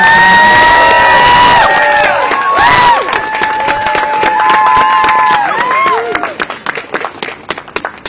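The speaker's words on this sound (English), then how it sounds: "can we actually just get a round of applause for them" A loud crowd at an outdoor rally protesting newspaper layoffs claps, cheers and whistles. Shrill whistles and whoops ride over dense applause that fades into scattered claps near the end.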